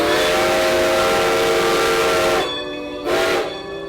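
Strasburg Railroad steam train sounding its steam whistle, a loud sustained chord-like blast followed by a shorter second toot over the rumble of the moving train.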